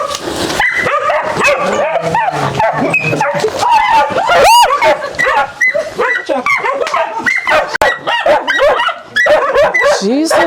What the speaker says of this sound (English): you should have warned us about the dogs